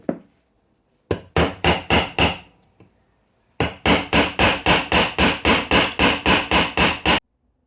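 A hammer drives drive-in grease nipples, which have no threads, into motorcycle parts during an NSU Prima restoration. A few sharp metallic blows are followed by a pause, then a fast, steady run of about fifteen close, loud strikes.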